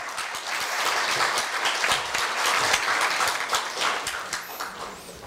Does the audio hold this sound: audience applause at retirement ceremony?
yes